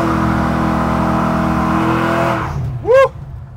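A GMC truck with a swapped-in LS1 5.7 litre V8 revs loudly and holds a sustained roar, then drops off before a sharp, rising tire squeal or engine whine bursts briefly near the end.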